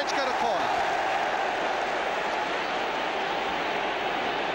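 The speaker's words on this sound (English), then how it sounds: "So that's brought a new cheer to the East Anglian throats at Wembley this afternoon" A vast football crowd at Wembley roars in a sustained, broad wash of cheering after Norwich win a corner in a League Cup match, the noise steady and loud throughout without a break.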